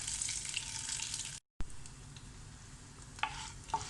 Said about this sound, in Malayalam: എണ്ണ ചൂടായിട്ടുണ്ട്. അതിലേക്ക് കടുക്, കുറച്ച് ഉഴുന്നുപരിപ്പ്, ഒരു 3 പച്ചമുളക്,